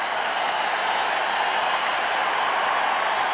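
A packed crowd at a baseball stadium, Houston Astros hosting the St. Louis Cardinals in a 2004 playoff game, keeps up a dense, even roar of cheering on a two-strike count, loud and unbroken throughout.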